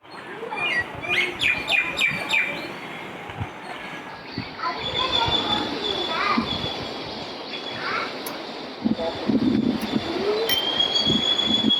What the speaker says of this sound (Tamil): மாடிக்கு போகும்போது குருவி, குயில், காற்று சவுண்டு வேறு, கோழி,